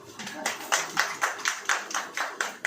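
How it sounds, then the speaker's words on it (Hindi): A church congregation claps along in a steady rhythm, about ten even claps, moderately close, with faint voices underneath. "ताली बजाइए।"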